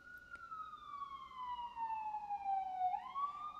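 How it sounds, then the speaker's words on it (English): An emergency vehicle siren wails outside, sweeping slowly downward in pitch before rising again, steady and moderately distant, heard alone without talk. "Sorry about the sirens, guys."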